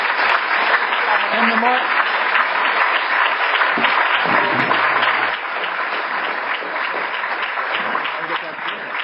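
An audience at a Connecticut gun-control forum at the Mark Twain House applauds steadily and loudly for the whole stretch, while a voice talks over the clapping.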